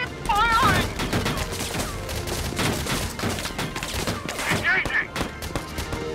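Sustained gunfire in the tactics game Valkyria Chronicles, dense rapid shots rattling continuously and loudly, with bursts of shouting voices mixed into the fighting.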